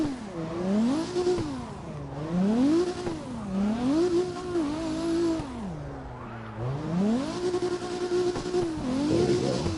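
Video game car engine in a drifting game, revving up and down in repeated rising and falling sweeps, loud and close, with gear shifts and a brief tire squeal.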